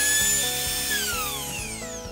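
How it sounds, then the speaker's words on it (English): A router with an edge rounding bit whines at high pitch, spinning down and shifting pitch, with a rhythmic low rattle underneath, close and steady, no voices. "I was able to use an edge rounding bit on a router for some of the shaping"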